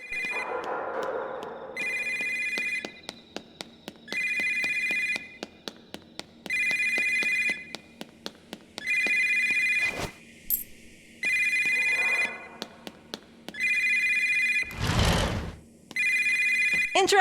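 A telephone in a school hallway in the video game Yomawari: Lost in the Dark rings in regular bursts of electronic trilling separated by short pauses, loud and close, with sharp clicks and a brief whooshing noise between rings.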